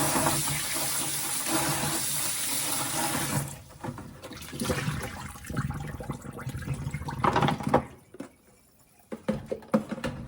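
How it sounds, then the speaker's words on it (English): Bell peppers are washed under a kitchen faucet: a steady rush of running water at first, then uneven splashing and dripping as the peppers are handled, ending with a few scattered knocks, no speech. "I am using 4 peppers, and before that let's wash them and put it aside."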